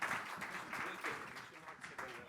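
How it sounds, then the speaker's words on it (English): Faint, distant applause from a hospitality conference audience ripples through a large room, pulsing in soft waves, with a low murmur underneath. "Please welcome them to the stage with a round of applause."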